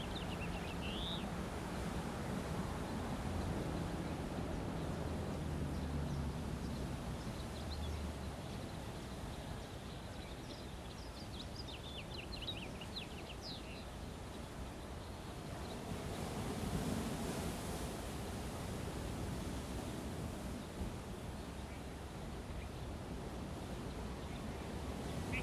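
Steady ocean surf washes near a shoreline, a continuous broadband roar with gentle swells, mixed with some wind and a few faint bird chirps.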